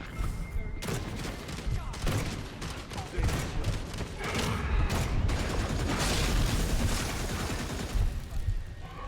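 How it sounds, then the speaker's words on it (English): Rapid bursts of gunfire from shooting vampires in the video game Redfall, dense and continuous across the whole stretch with players talking over the shots. "I'm literally shooting"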